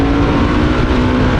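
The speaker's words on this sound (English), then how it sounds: "I think the exhaust notes were about the same for both options, which was not loud, but a little throaty like I like it." A Harley-Davidson 2021 Pan America 1250 motorcycle engine holds a loud, close, throaty drone with a steady low pitch and no talking.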